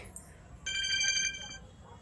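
An incoming-call ringtone on a mobile phone plays as a bright, steady electronic melody for about a second, moderately loud and close, over faint background noise.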